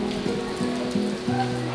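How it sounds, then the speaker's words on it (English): Rain falling outdoors, a steady patter across the whole moment with a faint low tonal hum running underneath, and no voices. "I moved back once it started raining."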